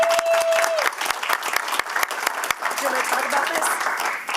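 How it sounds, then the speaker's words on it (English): Audience applause sustained for a retiring emergency manager at a public safety committee meeting, dense steady clapping throughout, fairly close and loud. "I would just ask for a round of applause for Ms. Ferroli as we wish her well"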